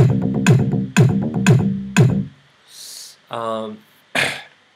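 Four short, punchy synth bass notes in Logic 9 in a steady rhythm, then a few brief noisy bursts and a buzzy tone; no one speaks.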